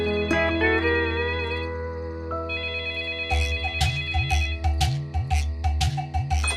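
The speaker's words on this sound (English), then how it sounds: "suddenly the phone rang" A telephone rings in a cartoon story scene, first as a steady electronic trill and then as a rapid repeating ring pattern over background music, loud and close with no talking.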